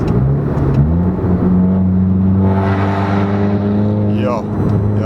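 A straight-piped VW Golf 7 GTI engine drones steadily at partial throttle, a raspy, loud exhaust note holding a constant tone with a slight rise near the end, with voices talking over it.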